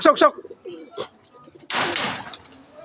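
A racing pigeon arrives at its loft after a 150 km race, with a few soft coos and wing flaps near the start and then a loud burst of flapping and rustling, mixed with a voice.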